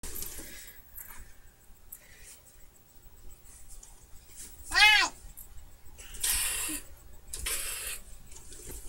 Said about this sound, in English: Cats don't play with other cats well.